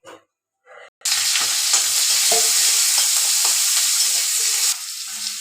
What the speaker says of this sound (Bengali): তেলখিনি দি দিলোঁ এতিয়া ভালকৈ লৰাই পিৰাই